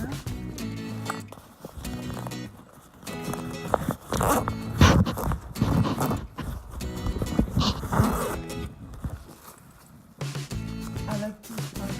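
Zippers on the pockets of a Fox Outdoor tactical bag are pulled open and shut in several quick rasping runs, close up and mixed with fabric handling.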